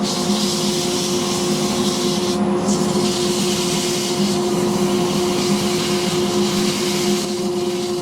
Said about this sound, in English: I'm going to sand this end.